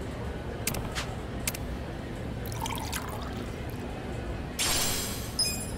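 Hot water pours faintly in the video game Yakuza: Like a Dragon, a soft liquid trickle with brief splashy accents beneath a steady hiss.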